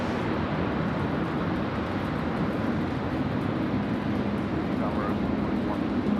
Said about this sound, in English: It's the 737 departing to Melbourne now, Boeing 737-800. Ripping it out on the wet runway there at runway 16 right.